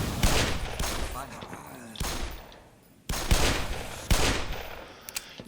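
Revolver shots fired in the video game Black Mesa: three loud, close gunshots with sharp onsets, spaced about a second or more apart, each trailing off into a ringing decay.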